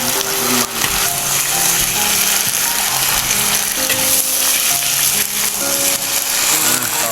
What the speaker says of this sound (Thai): ผัดน้ำมันนะครับผมเมนูนี้ชื่อว่า ผัดยอดเกลียงใส่ไข่นะครับผม